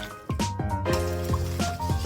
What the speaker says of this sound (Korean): 붉은 소금과 설탕을 넣고 물을 넣고 녹여줍니다.